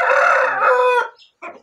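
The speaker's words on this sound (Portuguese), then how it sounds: "Muito bonito o frango, né?" A rooster crows once, loud and close, in a long drawn-out call on a farm, followed by a brief pause and a short squawk or cluck.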